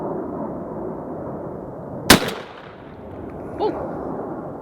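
A Winchester SX4 shotgun fires one 3-inch Longbeard XR 6-shot shell through an Undertaker choke. A single sharp, loud blast rings out over quiet outdoor background noise.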